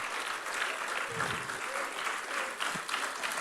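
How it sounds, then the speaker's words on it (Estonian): Audience applause fills a church summer camp closing service, a dense, steady wash of many hands clapping at moderate volume throughout, with a few voices faintly mixed in. "Suur aplaus teile, aitäh."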